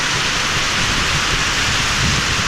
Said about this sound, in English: That's some rain right there though.